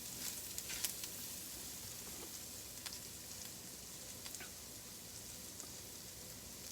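Flour goes into sizzling ham drippings in a pan, giving a quiet, steady frying hiss with scattered small pops and crackles.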